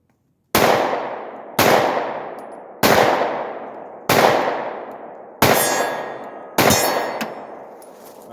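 Six sharp, loud 9mm pistol shots fired at a steady pace about a second apart, each crack followed by a ringing metallic decay, with no talking.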